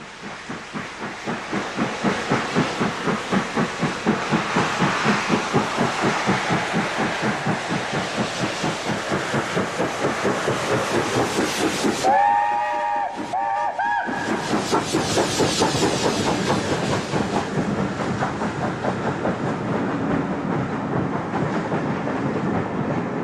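British Rail steam locomotive 70000 Britannia, built in 1951, on a test run, a steady rolling roar of wheels and steam with fast rhythmic beats, briefly broken by a short gap and whistle-like tones before resuming.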